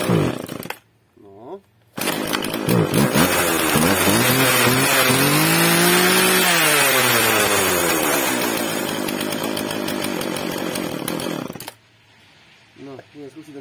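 Husqvarna 136 chainsaw engine starts after a brief sputter and runs loud and close for about ten seconds, revving up and settling with a wavering pitch before cutting off; a short burst precedes it and a voice speaks faintly at the end.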